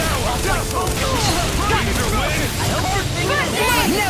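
A magical Explosion spell erupts in a Tales of Arise battle as a loud, continuous roar of booming impacts. Combat effects and characters' shouting voices are layered over it.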